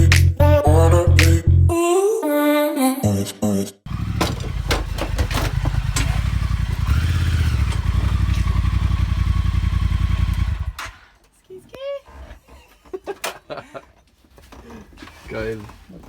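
A Triumph Speed Twin motorcycle engine revs and rumbles loudly up close for several seconds, then drops away to quieter clatter, with people talking over and after it.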